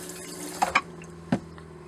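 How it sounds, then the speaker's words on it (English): Pink antifreeze fluid runs into a drain of a 2015 Phoenix Cruiser motorhome during winterizing, a steady trickle of liquid with a few brief splashy bursts, close and fairly quiet, with no talking. "I'm going to spray this pink fluid in there."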